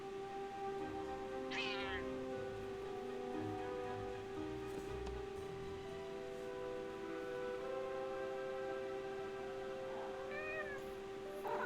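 A cat familiar in the Forspoken video game meows twice, clearly and close, once early and again near the end, over a steady musical drone and soft rain-like ambience.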